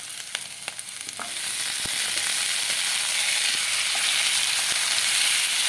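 Capsicum and garlic frying in a pan, with tomato going in. Close sizzling starts with a few clicks and scrapes, then swells after a second into a loud, even, continuous hiss.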